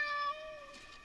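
A cat meows in Layers of Fear: Inheritance, giving one drawn-out, tonal mew that starts clear and close, then fades and thins toward the end.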